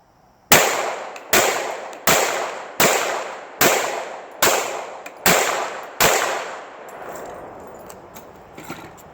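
Seven pistol shots from a P80 handgun fitted with a Holosun 507c red dot, loud, sharp and evenly spaced about a second apart outdoors, each with a short echoing tail, then quiet.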